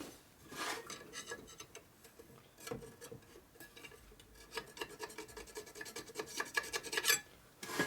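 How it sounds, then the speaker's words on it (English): A metal file rasps in quick, uneven strokes across a part from a rebuilt 1946 Harley knucklehead stroker motor, close and fairly quiet, with light scraping and ticking as it checks for flatness. "So you always run your file across to make sure it's flat."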